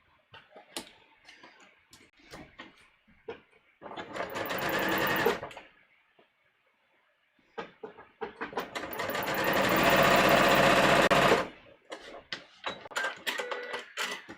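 A sewing machine stitches shoulder, bust and waist darts on a muslin bodice draft, running in two loud sustained bursts separated by quiet handling clicks and ticks.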